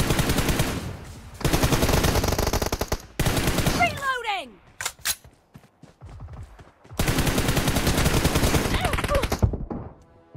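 Rapid automatic gunfire in a team deathmatch shooter game, loud sustained bursts that stop for a few seconds of quieter game sounds with a descending whistle-like effect, then resume in a long heavy burst.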